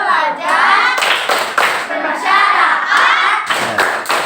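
Children clapping a rhythmic chant in a primary school classroom, loud sustained group claps with voices chanting along throughout.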